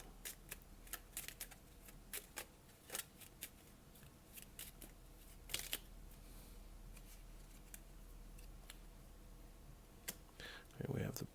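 Tarot cards are shuffled and drawn in a series of quiet, crisp clicks and riffling snaps, scattered irregularly and close by, with a flurry of handling at the very end.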